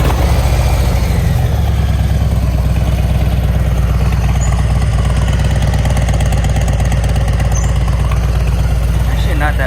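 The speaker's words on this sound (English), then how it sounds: "Phil, the owner of Sonoma Harley Davidson, wants me to hear the sound of his exhaust. So let's see. This is the SNS 50 state legal" Harley-Davidson Low Rider ST with an SNS 50-state-legal exhaust, idling with a deep, steady, loud rumble and a rapid low pulse, rising a touch after the first couple of seconds.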